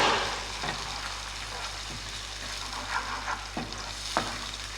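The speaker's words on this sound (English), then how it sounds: "We will add this puree. Okay. Now mix it properly." A spoon stirs tomato puree through a sizzling sauce in a pan, making a continuous close hiss broken by a few soft scraping strokes.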